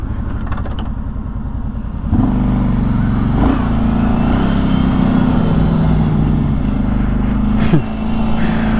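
Kawasaki Brute Force 750 ATV engine in low range four-wheel drive creeping up a hill, a steady close rumbling drone that swells and holds at higher load for several seconds before briefly dipping and settling again.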